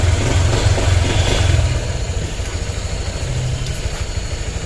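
A motorcycle engine runs close by with a low, steady idle rumble, a slight rev at the start before settling into an even putter, heard alone outdoors.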